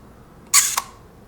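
A single Kiev 4 rangefinder camera shutter fires close up: a sharp mechanical snap, followed a quarter second later by a second click, in quiet surroundings.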